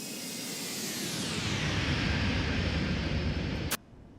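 An airliner flies past in X-Plane 12, a ToLiss A320 CEO: a broad roaring jet noise swells, its whine sweeps downward as the aircraft passes close, then cuts off abruptly near the end.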